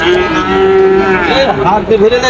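A Holstein Friesian bull lows loudly and close at a cattle market, one long sustained moo that wavers and bends in pitch near its end, standing alone without talk.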